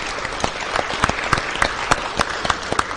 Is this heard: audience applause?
yes